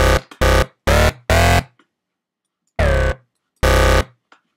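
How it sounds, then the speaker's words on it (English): Loud, buzzy distorted synth stabs in Logic Pro 9, four short bursts in quick succession then two longer held notes, harsh and gritty with no voices. "Sounds pretty good with distortion."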